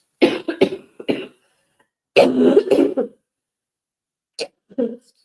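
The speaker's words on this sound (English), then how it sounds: "Oh, shoot, I'm going to cough again." A person coughs in a few separate bursts: a pair near the start, a longer harsher cluster mid-clip, then short softer coughs at the end. All are close and loud, with silence between them.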